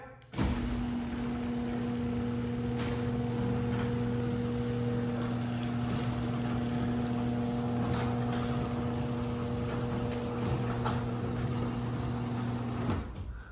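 A newly installed Genie G5000 garage door opener runs steadily for about thirteen seconds, a loud continuous motor hum with strong low tones and rattling from a shaking rail, a few faint clicks on top.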